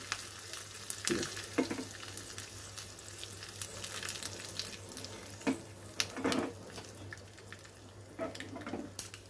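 Mustard seeds, cumin, chana dal, curry leaves and a dried red chilli crackle in hot oil as a tempering for chutney, a soft, low sizzle dotted with scattered pops and stirring scrapes.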